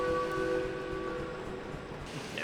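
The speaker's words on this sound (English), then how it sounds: "maybe the whistle can give us some good luck" A steam locomotive whistle in the train simulator game Derail Valley sounds a steady, tonal blast that slowly fades, with rumbling engine noise beneath and no talking.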